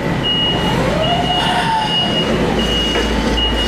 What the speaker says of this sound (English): I just heard those two beeps, which means we're on the move.